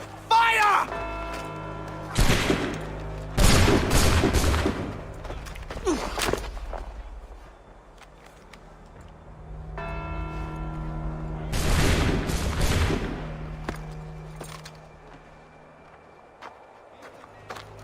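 A musket volley in the video game Assassin's Creed 3 Remastered: two loud bursts of overlapping shots with booming tails, separated by a quieter stretch, with voices heard around them.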